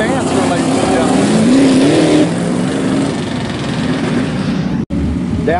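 IMCA Modified race cars roar around a dirt speedway in a heat race, a loud, steady engine drone with a rising pitch sweep as cars pass, a public-address announcer talking over it, and a brief dropout near the end.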